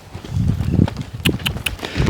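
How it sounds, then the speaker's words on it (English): A young Arabian filly's hooves clip-clop as she moves around during groundwork. The steps come in a quick, uneven rhythm, close and clear, with no voices. "Look how nice this horse moves."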